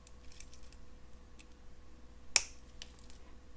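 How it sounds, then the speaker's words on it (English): Wire snipped with cutters while making a beaded boho butterfly necklace, one sharp faint snip standing alone over quiet room noise, with a few soft handling ticks around it. "now let me cut off the excess"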